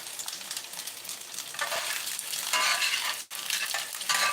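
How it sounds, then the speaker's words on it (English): Onions and peppers sizzle loudly in a cast iron pan, crisping in a dense, steady fry with stirring scrapes and one brief dip in the noise. "The onions and the peppers are starting to crisp up."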